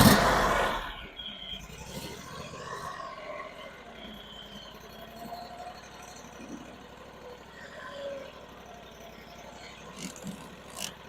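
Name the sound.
Brush Bandit SG-40 stump grinder engine starting and running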